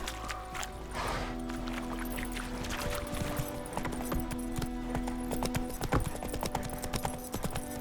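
Hooves of the horse Roach clip-clop steadily on the ground in The Witcher 3, a close, even trot with faint tack and ambient rustle, no talking.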